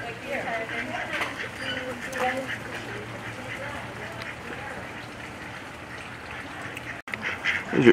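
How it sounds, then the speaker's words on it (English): Indian runner ducks quack repeatedly in a busy outdoor scene at Sarasota Jungle Gardens, Florida, some calls close and some farther off, mixed with background chatter and ambient noise. "These are Indian runner ducks."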